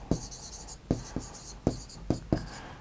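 Chalk or marker strokes on a board during a Class 12 maths lesson on three-dimensional geometry, with sharp taps and scrapes in an irregular rhythm, close and fairly loud, and no voice over them.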